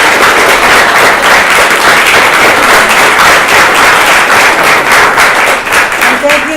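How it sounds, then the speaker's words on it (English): A theatre audience gives loud, dense applause for the cast and crew of a skits show, many hands clapping close and steady throughout, easing slightly near the end. "So let's give a round of applause for that."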